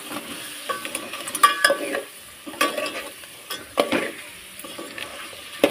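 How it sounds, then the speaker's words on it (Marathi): Crab pieces sautéing in a pan for a Marathi-style crab curry, with loud bursts of frying and scraping as a spatula stirs them every second or so, close and steady, no voices. "चिंबोरी टाकून घेते. परतून घेते."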